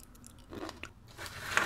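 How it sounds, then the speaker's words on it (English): Crunchy kohakutou, a Japanese sugar-crystal candy, is bitten and chewed up close, giving a few crisp crackling crunches that grow louder toward the end. "It's really sweet, but the outside has a really nice crunch."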